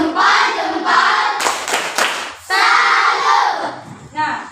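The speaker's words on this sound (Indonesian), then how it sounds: "ada baiknya kita melakukan tepuk salut" A class of schoolchildren performs the 'tepuk salut' clap chant, loud rhythmic group clapping with chanting voices in bursts, a short pause midway, then more clapping and shouting near the end.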